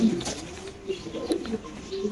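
A pair of yellow-faced pigeons coo in soft repeated rolling phrases at a loft, close and moderately loud, with a little background murmur.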